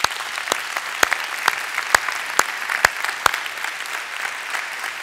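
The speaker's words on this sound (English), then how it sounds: "I just want to have one round of applause for our conference sponsors." A leadership conference audience at the Naval Academy applauds its sponsors. Soft, continuous crowd clapping carries a series of sharp, louder individual claps that ring out at a roughly even rhythm.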